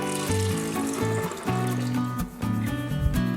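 A cup of water is poured into a blender with cashews for a vegan artichoke dip, a close trickling pour that splashes and gurgles steadily for a few seconds with no talking.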